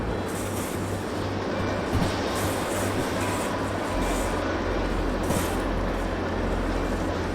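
A steady, loud rumble of a caboose rolling along in the video game Derail Valley, with a low droning hum and periodic rhythmic clunks, no voices.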